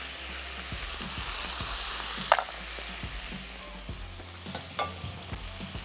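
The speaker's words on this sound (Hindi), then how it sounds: "तो यहाँ पे इस पालक को हमने इस ऑयल में शैलो फ्राई कर लेना है" Spinach shallow frying in oil gives a steady, close hiss and sizzle, with soft scraping stirs and a few sharper spatters breaking through now and then.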